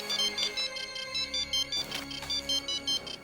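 A phone ringtone for an incoming call plays a bright, repeating electronic melody in short rhythmic pulses, clear and fairly close, with no talking over it.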